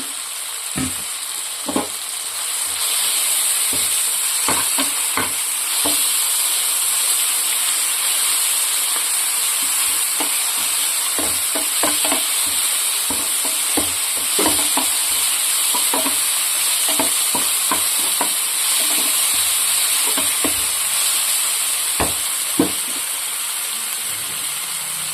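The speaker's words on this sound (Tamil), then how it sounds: "சேர்த்துட்டு நல்லா வதக்கிக்கலாம்" Ginger garlic paste with coriander and mint sautéing in a pan for a crab fry, a steady sizzling hiss broken by frequent sharp scrapes of stirring, close and fairly loud with no talking.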